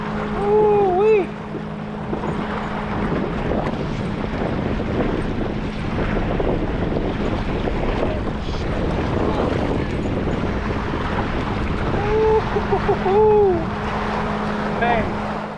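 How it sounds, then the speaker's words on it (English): Strong wind buffets the microphone on open water during late fall bass fishing from a boat, a steady loud rush with waves slapping and a brief engine-like hum at the start and near the end. "The wind picked up on us. It was super windy."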